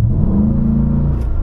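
Corvette V8 swapped into a Land Rover Defender revs with its exhaust open, a loud, deep continuous rumble that swells and holds steady throughout, close and without voices.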